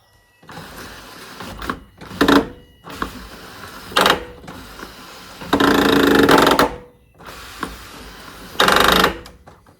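Power seats in a cheap Volvo whir and grind in short motorized bursts with pauses between, close by and without speech.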